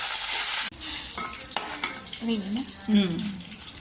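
Tempering for mango pulihora fries in a pan, a close sizzle broken by a sudden cut, then spatula clinks and scraping against metal as the mixture is stirred.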